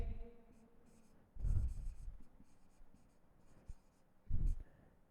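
Pen or chalk writing out natural numbers by hand in a maths lesson, heard as two short scratchy bursts of strokes separated by quiet, close and fairly faint with no talk over it.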